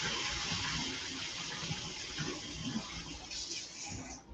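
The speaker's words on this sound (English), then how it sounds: "And run a little hot water on top of it." Hot tap water runs steadily over tinned sardines in a kitchen sink, a close, continuous splashing hiss lasting throughout.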